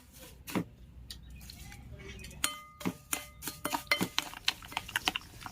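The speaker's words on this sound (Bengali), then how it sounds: "এইভাবে কফি আর চিনিটাকে খুব ভালো করে ফেটে নিতে হবে, যেন চিনিটা সম্পূর্ণ গলে যায়।" Coffee and sugar are whisked in a bowl, close and fairly quiet: a utensil scrapes and clinks against the bowl, first sparsely, then in quicker irregular taps.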